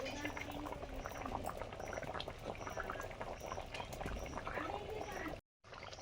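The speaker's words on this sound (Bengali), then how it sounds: "ঝোল ফুটে গেছে, মাছ দিয়ে দিচ্ছি।" Fish curry broth bubbles at a steady rolling boil in a pot, a dense continuous burble close up, with a voice speaking faintly over it.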